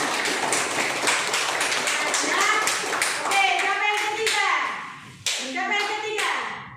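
A class of students applauding, quick rhythmic hand claps in unison that fade out, followed by a teacher and children speaking.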